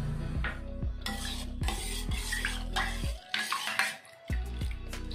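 A spoon repeatedly scrapes around a pot while jaggery is stirred into a sweet rice mixture, giving a series of close, rhythmic metallic strokes with soft clinks and a faint sizzle underneath, with a short pause near the end.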